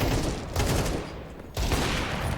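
Dense, continuous gunfire in Counter-Strike 2 roars loudly and steadily, with a brief dip in the middle, and there is no talk over it.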